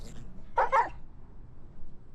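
A wild creature in ARK: Ascended gives a short, close whimper, a single soft dog-like yelp lasting under half a second against quiet game ambience.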